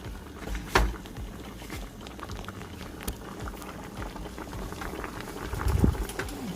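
Fish pepper soup stock from tilapia with native spices bubbling in a pot, a steady close boil with dense popping and gurgling throughout and a couple of louder bursts, no talking.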